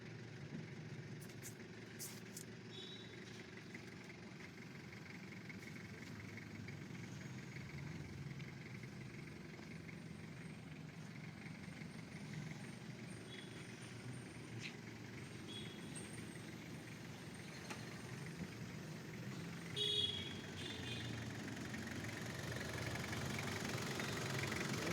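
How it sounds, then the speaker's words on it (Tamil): A 2003 Toyota Qualis engine idles under the open hood, a steady low, even rumble that holds throughout with a slight rise near the end and no one speaking. "இன்ஜின் வந்து பக்காவான இன்ஜின்."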